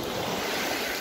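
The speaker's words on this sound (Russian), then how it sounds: "Шумно вообще, да, шум волн такой, песочек" Waves washing onto the sandy shore of Lake Baikal on Olkhon Island, a loud, continuous broadband surf roar with wind buffeting the microphone and no talk.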